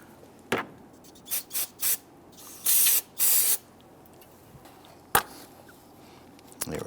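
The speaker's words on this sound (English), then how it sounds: "sometimes a good spray with some spray solvent will get any debris out of there" Several short hissing bursts of aerosol solvent spray cleaning debris from a variable valve timing solenoid port on a 3.5L V6 Ford Explorer, a few quick puffs followed by two longer sprays, with small clicks between, close to the mic.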